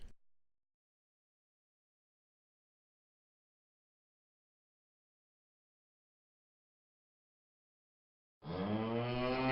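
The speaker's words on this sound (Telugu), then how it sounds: "ఆవు" After a long silence, a single deep, sustained cow moo begins near the end, loud and close.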